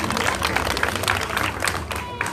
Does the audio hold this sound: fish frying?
no